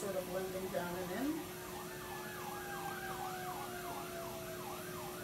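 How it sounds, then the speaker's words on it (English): An emergency vehicle siren on a nearby major road, wailing up and down in a steady repeating cycle at moderate distance and fairly faint, with a voice heard briefly at the start. "every time I turn on a video camera in this place, there's a siren that goes off"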